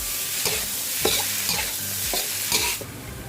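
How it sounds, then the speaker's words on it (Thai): Mussels stir-fried with chili and garlic in a hot pan, a steady sizzle broken by repeated scraping stirs roughly every half second, close and fairly loud with no voices. "ก็ใส่หอยแมลงภู่ลงไปได้เลยค่ะ ทำการผัดให้เข้ากันนะคะ"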